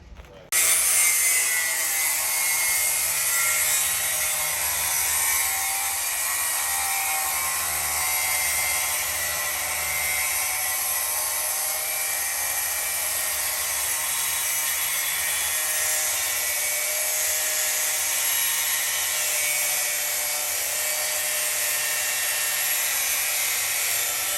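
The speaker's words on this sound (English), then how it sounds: "I hear metal being grinded." Metal being ground during knife making makes a loud, continuous high-pitched grinding whine that holds steady and close for the whole stretch, with no talking.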